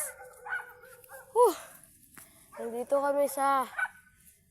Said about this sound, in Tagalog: May aso dito na humarang sa amin.